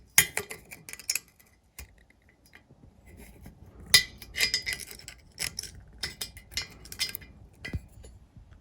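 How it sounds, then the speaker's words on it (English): A pick tool scraping melted housing off a bolt on a Mercury Mercruiser outdrive water pocket cover, heard as sharp, irregular metallic clicks and scratches in short bursts separated by quiet gaps. "grab a pick tool and carefully pick away at that melted housing that is melted onto that bolt"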